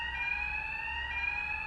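A fire alarm blares a steady, continuous electronic tone with high sustained pitches, loud and unbroken throughout, with no voices.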